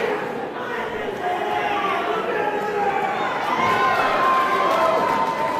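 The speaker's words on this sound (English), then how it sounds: "Crowd trying to rally behind Orion Bishop tonight." A wrestling crowd rallies behind Orion Bishop during a match, a loud sustained roar of cheering and chatter filling the arena, with commentators talking over it.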